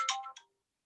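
An iPhone ringtone chiming briefly and close, a short bright melodic burst that cuts off quickly into silence.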